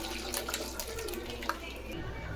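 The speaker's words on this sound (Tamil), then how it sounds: "இப்போ வந்து இந்த பன்னீரும் இதுவும் வந்து நாங்கள் வடிகட்டிக்கலாம்" Whey draining and splashing through a strainer as homemade paneer cheese, curdled with vinegar, is strained in a kitchen; a steady, soft liquid trickle close by, fairly quiet and continuous, with no talk.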